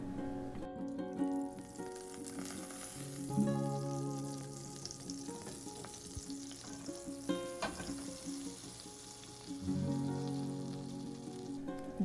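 Butter and canola oil in a cast iron pan, with a steady low sizzle and crackle running throughout at moderate loudness, swelling briefly in a few spots.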